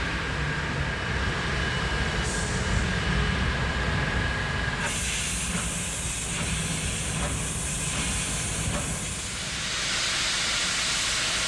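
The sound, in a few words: Norfolk & Western 611 steam locomotive hissing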